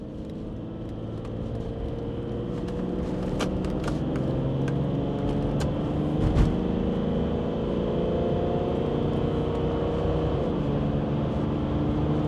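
A Toyota Land Cruiser Amazon (100 series) 4x4 with an automatic gearbox accelerating, its engine drone rising in pitch and then dropping smoothly at each gear change, heard steadily from inside the cabin.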